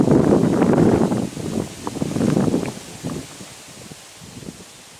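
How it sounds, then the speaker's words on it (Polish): Wind buffets the microphone while riding a scooter on a hot afternoon in the Bystrzyckie Mountains, loud low rumbling gusts that come in surges and gradually ease off toward the end. "Powiał wreszcie lekki, ożywczy wiaterek."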